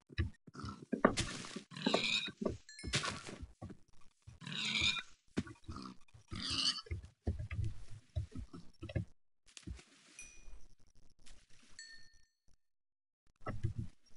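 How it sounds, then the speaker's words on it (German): Pigs in the Minecraft video game grunt and snort repeatedly in short bursts, close and fairly loud, with clinking item-pickup dings in the later part. "Das sind aber drei Schweine."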